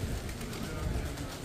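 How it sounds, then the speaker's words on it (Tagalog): Many pigeons cooing in the old town of Dubrovnik, a steady low murmur of birds close by with constant outdoor crowd and ambient noise. "Ang dami kalapati."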